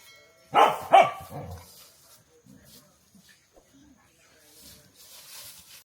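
Rescued street dogs at a shelter give two loud barks close by, followed by quieter scattered yelps and faint background noise.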